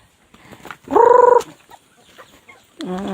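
A short burst of harsh, tonal squawking from chickens and ducks on a small farm, loud and close, with faint rustling around it and another squawk starting at the end.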